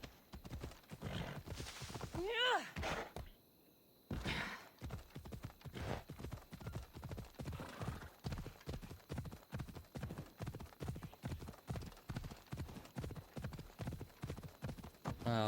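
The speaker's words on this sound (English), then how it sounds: "Horsey, get in here. Get back here." A horse in a video game trots with rapid, even clip-clop hoofbeats throughout, broken by a short whinnying neigh near the start and a brief pause before the hoofbeats resume.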